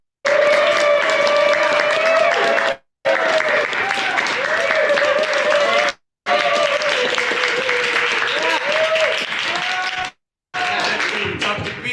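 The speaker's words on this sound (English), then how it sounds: "Give a round of applause" A live variety-show audience answers with bursts of applause and vocal cheering, loud and close, broken by three short silent gaps, with shouting voices riding over the clapping.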